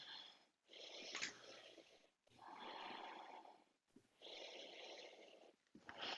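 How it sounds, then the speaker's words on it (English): Deep, slow Ujjayi yoga breathing during a seated twist: three long, throaty, slightly rasping breaths with short pauses between them, close and soft. "Deep Ujjayi breathing."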